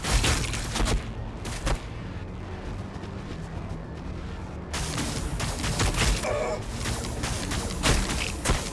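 Heavy gunfire and explosive blasts from the Warhammer 40k Battle Sector strategy video game, dense overlapping volleys rumbling loudly throughout with a brief lull in the middle, no talking.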